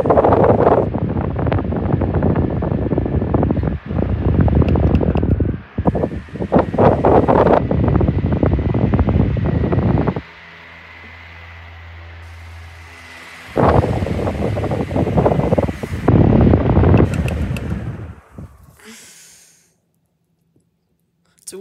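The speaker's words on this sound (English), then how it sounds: "The strangest fans I've ever seen." Old multi-speed fans run in a basement, giving loud bursts of gusty whooshing with clicks. A quieter stretch of low humming comes midway, then the sound fades out at the end.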